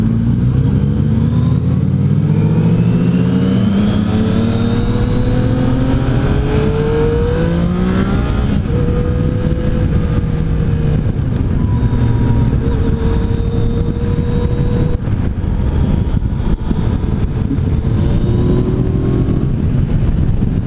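A Yamaha FJ-09 motorcycle engine revs and pulls hard on a road ride, its rising and falling engine tone loud and continuous, with wind rush over it.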